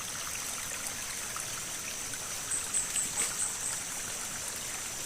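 A steady, continuous rush of flowing stream water, even and unbroken throughout, with no voices.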